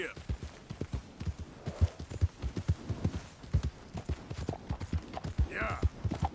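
In Red Dead Redemption 2, a horse's hooves clip-clop in a steady, quick gallop rhythm throughout, fairly quiet and close, while people talk over it.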